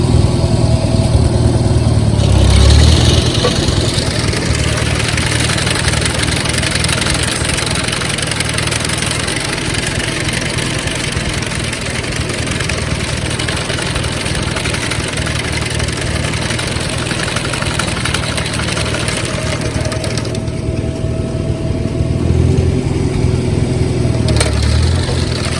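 A 1956 Farmall 200 tractor runs at low throttle while pulling a McCormick-Deering FC-21 sickle mower through June hay, giving a continuous loud, steady engine drone with a rhythmic knock that holds throughout.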